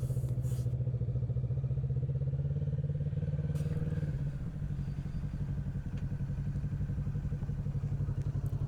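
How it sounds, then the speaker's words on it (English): A motorcycle rides around a 40-foot circle to warm its tires, its engine droning in a steady, close, throbbing note that dips and shifts pitch about halfway through, with no talking. "We're going to have to warm up the tires a little bit first before we start trying to bank this bike around this 40-foot diameter circle."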